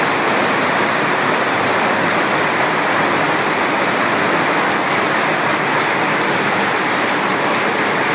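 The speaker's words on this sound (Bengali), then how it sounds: "এবং ড্রেন দিয়ে সেই জল প্রবাহিত হয়ে চলে যাচ্ছে।" Rainwater rushes away through a drain during heavy Andaman rain, a loud, unbroken wash of flowing water blended with the steady roar of the downpour, no voices.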